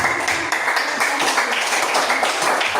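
An audience claps hands together in a classroom, a dense, steady patter of many hands, loud and close, continuing evenly throughout.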